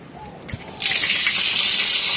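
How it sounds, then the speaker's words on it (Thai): A brief knock, then an outdoor tap opens and water gushes out in a strong, steady hissing stream, loud and close. "น้ำไหลแรงดี"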